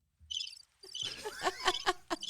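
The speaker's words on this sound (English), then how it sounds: "There's some crickets or something over there on the board at the bottom left." Crickets chirping nearby in a quiet room: a short burst of chirps, a brief pause, then a run of rapid, pulsing chirps that continues to the end.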